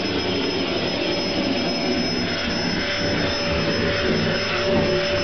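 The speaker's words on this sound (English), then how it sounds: "we've got one of the loudest hoovers on earth. Sounds like a jet engine." A very loud household hoover runs continuously at close range, a steady roaring whine with a sustained high tone like a jet engine, no pauses or talk.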